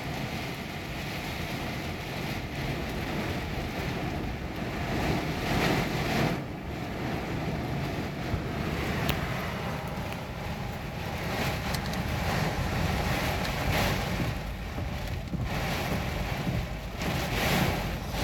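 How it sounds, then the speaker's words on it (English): A strong storm wind blasts at night, a loud continuous roar that buffets the microphone and surges in gusts throughout. "The wind is ridiculous."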